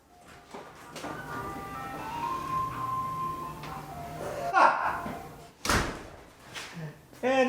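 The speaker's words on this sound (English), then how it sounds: "No joke, there's an ice cream truck outside." An ice cream truck jingle drifts in from outside on a late-November day in Texas, a faint melodic tune in the distance mixed with door thumps and a slam nearby.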